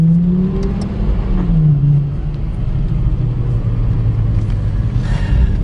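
A Lexus LFA sports car engine revs hard and rises in pitch, then settles into a loud, steady throaty rumble close by.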